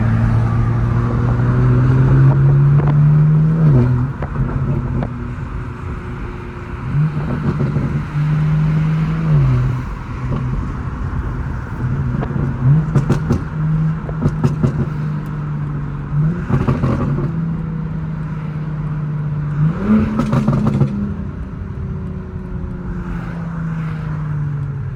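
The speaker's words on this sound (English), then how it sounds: "Super smooth, quiet, nice sounding car." BMW M4 Competition fitted with downpipes, its engine droning low and steady while accelerating, rising and falling through gear changes with a couple of sharper revving bursts, heard continuously and fairly loud.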